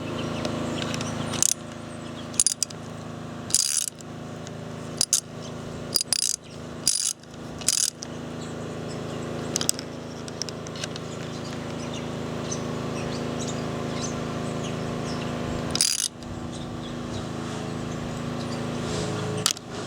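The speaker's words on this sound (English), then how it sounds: "I reckon that's the socket jumping off" A socket repeatedly jumps off a grease nipple while it is being tightened on fencing outdoors, giving sharp metallic clicks at irregular intervals over a low background, with faint birdsong.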